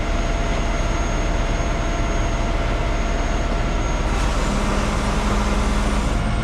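Tow truck winch taking up the load of a 40ft container, a steady loud mechanical rumble and engine drone running continuously throughout, with a faint higher whine rising near the end.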